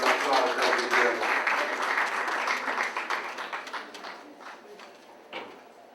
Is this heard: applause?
yes